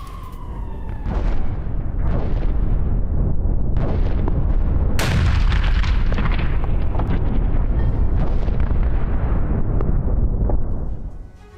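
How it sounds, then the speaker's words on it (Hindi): Missile strikes hitting Mykolaiv during a Russian attack, with a HIMARS depot set ablaze: loud, sustained roaring blasts and rumbling booms with sharp cracks, one sudden bright impact near the middle, dense and continuous throughout, no speech. "निकोलेव में रूसी सेना ने मिसाइल हमले किए हैं।"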